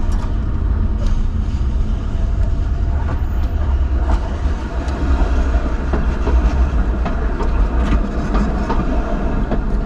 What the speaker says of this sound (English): this is the thing I had to really get used to here in driving in Bucharest, is the trams